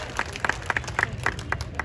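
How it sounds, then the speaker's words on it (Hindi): Scattered audience clapping at a mushaira poetry gathering, a thin patter of separate claps rising and falling in brief bursts over steady background murmur. "अब तुम तालियां बजा सकते हो"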